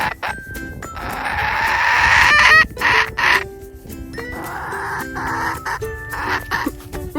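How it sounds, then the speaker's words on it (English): Chickens clucking in a garden, with several loud, close bursts of fowl calls and cackling, some overlapping, set against a quiet outdoor background with no talk. "I hope you enjoyed this video with me and my chickens"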